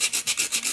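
Coarse sandpaper rubbed over a plastic Jurassic World velociraptor toy in steady back-and-forth strokes, about six rhythmic rasping passes, close and fairly loud with no talking.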